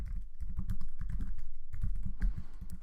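Code being typed on a computer keyboard, rapid close key clicks in quick irregular bursts with brief pauses, no voices.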